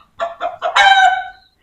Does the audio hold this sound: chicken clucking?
yes